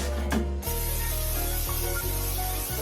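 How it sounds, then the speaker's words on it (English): A short hiss of cooking spray into an air fryer starts near the beginning and continues steadily at close range over a low background hum. "A little cooking spray just so it doesn't stick."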